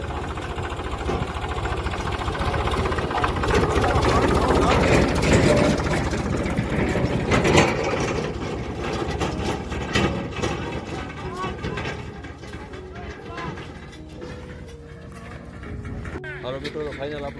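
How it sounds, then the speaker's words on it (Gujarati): A farm tractor engine chugs and rumbles steadily in a Gujarati village, moderately close and loud throughout, with its low throb continuing while people talk nearby. "તો ફાઇનલ આપણું ટ્રેક્ટર આવી ગયું છે"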